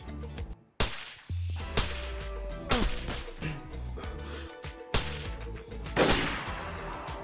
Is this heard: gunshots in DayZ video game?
yes